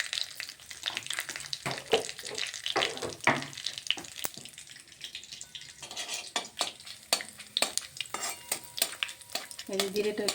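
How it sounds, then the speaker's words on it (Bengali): Cumin seeds with whole garam masala and bay leaf crackling in hot oil, a faint sizzle broken by frequent sharp clinks and scrapes of a spoon against the pan. "এই জিরেটা একটু ভাজা ভাজা করে নিচ্ছি"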